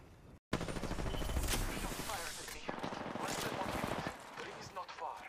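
Gunfire in an Apex Legends firefight: a sudden burst after a brief silence, then sustained rapid automatic shots and crackling impacts that thin out toward the end, with a player talking over the action.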